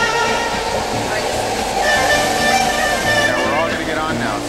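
A train stands at a station platform, giving off a steady rumble with thin metallic squeals and tones rising over it, while voices murmur in the background.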